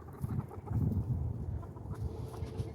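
Hens cluck in a dense, low murmur close by, with soft overlapping calls running steadily throughout and no talking.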